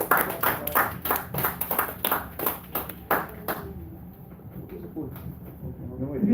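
Brief scattered clapping from a small crowd at the Blue Nation awards presentation, a few distinct claps in a loose rhythm that quickly thin out and fade, leaving a quiet room with faint background noise.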